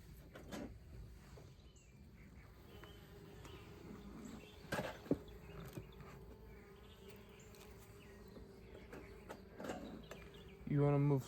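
Bees buzz faintly around a white beehive during an egg check, a soft insect hum with brief knocks and rustles and a louder burst near the end, with quiet voice underneath.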